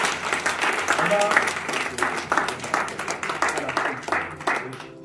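A church congregation at a Sunday worship service claps and cheers to acclaim Jesus, a dense roomful of hands and voices, with a preacher's voice audible over the crowd.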